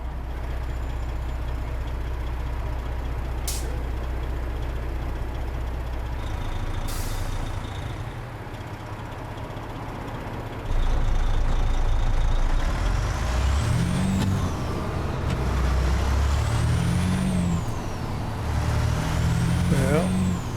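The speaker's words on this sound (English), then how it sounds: "Maybe we hear that other truck." An in-game heavy truck in American Truck Simulator gives a steady low diesel drone that grows louder partway through, with sharp hissing bursts from its air brakes and rising, falling tonal whines layered over the rumble.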